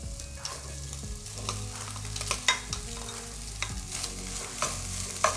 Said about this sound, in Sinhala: බත් එකත් පොඩක් ෆ්‍රයි වෙනකම් මේ විදිහට එළවලුත් එක්ක හොඳට කලවම් කරගන්න